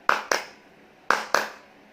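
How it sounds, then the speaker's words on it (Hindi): Two pairs of sharp hand claps in a classroom demonstration, each pair quickly repeated, about a second apart, close and clear against a quiet background. "ताली बजाने पर, ताली बजाकर देखेंगे हम सब"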